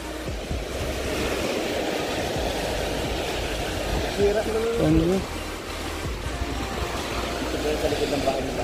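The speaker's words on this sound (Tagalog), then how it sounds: "Grabe, ang lakas ng alon bro." Strong waves pounding the shore during habagat monsoon winds, a continuous loud roar of surf with wind rumble; someone speaks briefly in the middle.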